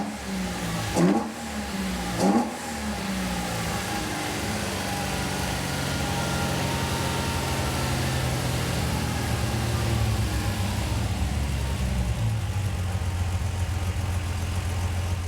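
A car engine on its first start gives two sharp revs, then settles into a steady, close idle rumble.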